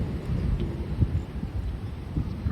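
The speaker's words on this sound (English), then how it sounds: "Yeah, still a lot of thunder around. Still a little bit of wind going on." Low rumbling thunder rolls through a stormy afternoon while gusty wind buffets the microphone, a steady dull roar with faint swells and no clear crack.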